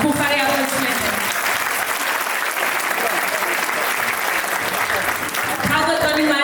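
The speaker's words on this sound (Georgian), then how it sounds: "გთხოვთ მივესალმოთ ხუხარი აპლოდისმენტები" Audience applause at a children's vocal ensemble concert, a dense sustained clapping from a crowd lasting throughout, with a brief voice or musical tone near the start and end.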